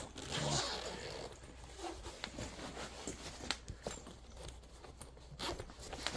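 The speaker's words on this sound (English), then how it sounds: "Got another zipper pouch up here." A zipper on a pouch of a DJI Mavic 3 Cine drone backpack with a suede body being opened and handled, short close rasps and rustling with no talking.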